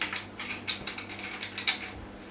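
Wolfcraft dowel jig stop sliding along to the next hole, a quick run of faint ratcheting metal clicks and scrapes, close up and alone.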